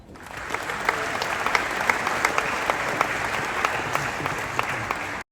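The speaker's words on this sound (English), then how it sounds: "Raucous applause for Matthew." Raucous applause from an audience at a PhD graduation ceremony procession, sustained dense clapping that continues steadily for several seconds, fairly close and loud, then cuts off abruptly.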